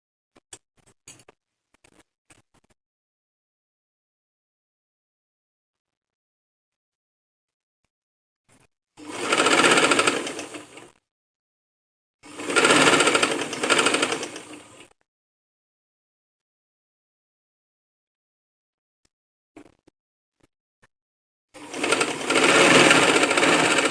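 A sewing machine stitches a simple frock in three separate loud bursts of rapid, even whirring, each lasting a few seconds, with quiet pauses and faint handling noises between them.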